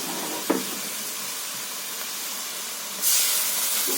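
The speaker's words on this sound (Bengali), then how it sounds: "তো এটা আমি তেলের মধ্যে দিয়ে দিচ্ছি।" Spice paste of ginger, garlic, green chilli, coriander and cumin frying in hot oil, a steady close sizzle that surges into a loud, bright hiss partway through.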